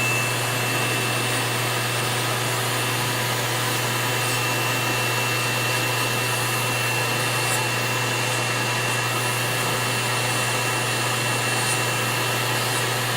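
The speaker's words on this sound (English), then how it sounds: "this is a new drill I'm using." A small electric nail drill whirs at a steady, unchanging pitch throughout, close and continuous, with no voices.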